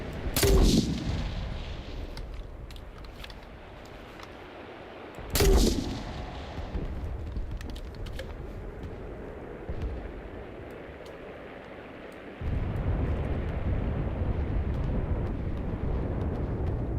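A rifle-mounted grenade launcher firing in the shooter game Enlisted: two loud sharp booms several seconds apart, each followed by rumbling, with distant gunfire and battle noise continuing underneath.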